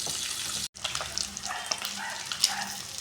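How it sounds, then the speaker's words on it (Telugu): Small Godavari fish frying in a pan over a medium flame, a steady close sizzle and crackle with scattered oil pops, briefly cut off near the start before resuming. "ఇలా చక్కగా రెండు వైపులా మంచిగా ఫ్రై చేసుకోండి."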